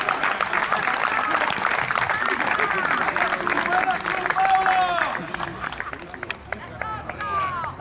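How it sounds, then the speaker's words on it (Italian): Crowd applause and cheering greet a former third baseman introduced at a baseball game, a broad clatter of clapping mixed with chatter and whistles that swells, then thins toward the end, with voices over it. "Un bel applauso per lui."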